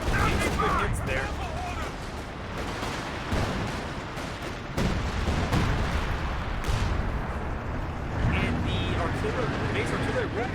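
Base artillery shells land in a Company of Heroes 2 match, giving repeated booming blasts and crackling gunfire in a dense, busy battle mix, with a commentator talking over it.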